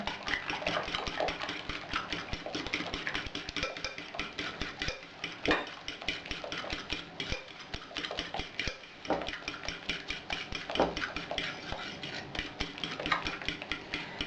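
Rapid, continuous clicking and scraping of a whisk or fork beating a mayonnaise mixture for brain pancakes in a bowl, close and busy, with brief pauses.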